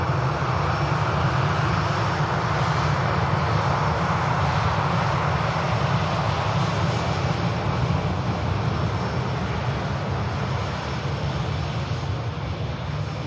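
A Jet2 airliner departs runway 23 right at Manchester Airport, its jet engines holding a loud, sustained roar that stays steady throughout.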